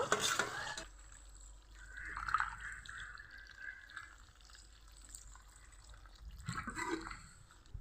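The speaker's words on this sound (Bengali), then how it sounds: "ভেজে রাখা আলু আর চাল কুমড়াগুলো দিয়ে দিব।" Fried potatoes and ash gourd drop into a simmering country chicken curry, with soft liquid splashes and stirring at the start and end, quiet and close.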